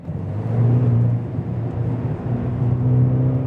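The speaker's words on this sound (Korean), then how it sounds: "이 상황에서 가속 페달을 밟게 되면" A Maserati Levante GT Hybrid with a four-cylinder engine accelerates, its engine and exhaust a steady, close, rumbling drone that swells slightly and holds throughout, with no talking.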